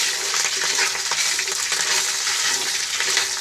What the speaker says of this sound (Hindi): हमें इसे जब तक भूनना है जब तक यह सुनहरा ना हो जाए।